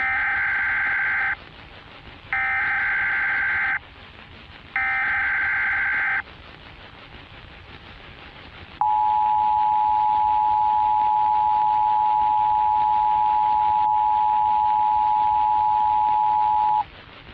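Three short blasts of a harsh two-tone Emergency Alert System alert alternate with silence, followed by a long steady single-pitched tone that holds for several seconds, loud and alone.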